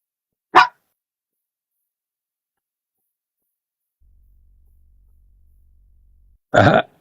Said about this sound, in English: You can hear my dog.